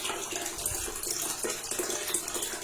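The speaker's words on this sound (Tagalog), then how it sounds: "grabe ang dumi ng ang dumi ng tubig na lumalabas" Dirty, rusty municipal tap water running from a faucet, a steady close rush and splash of flowing water that continues without a break and has no talking over it.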